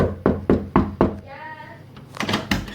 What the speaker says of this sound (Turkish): Kapıyı çalayım.